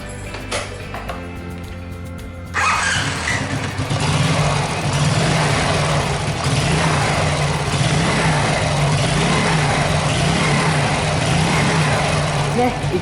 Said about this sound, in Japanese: 今一回エンジンかけましょうかね